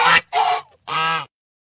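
A goose gives three close, loud honks in an uneven rhythm.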